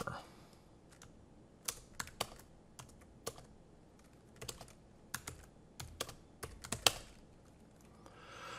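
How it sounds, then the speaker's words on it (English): Fingers tap out a short entry on a computer keyboard, a sparse run of crisp, close key clicks in irregular bursts over quiet room tone. "we'll just type this out real quick"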